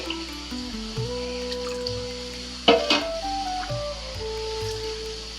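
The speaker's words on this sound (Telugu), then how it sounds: "మనకి ఎంత వాటర్ కావాలంటే అంత వాటర్ పోసేసుకుని" Water pouring steadily into a pot, a close trickling stream with a brief clatter partway through, no voices.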